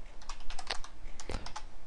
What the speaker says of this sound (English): I'm just going to start typing and hopefully you'll be able to follow along.